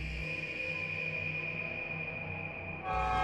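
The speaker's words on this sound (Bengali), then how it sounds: "তবে একটু পরেই ট্রেনটি আবারও চলতে শুরু করলো।" Train sound effect in a Bengali ghost story: a long steady horn-like tone sustained over a low rumble, with a louder burst of rumbling near the end as the train moves off.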